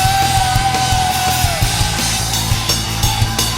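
A worship congregation shouts and whoops at a Filipino praise service, loud, overlapping yells rising over a sustained tone of live music with rhythmic hits.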